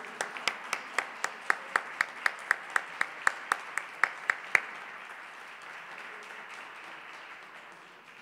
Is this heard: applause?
yes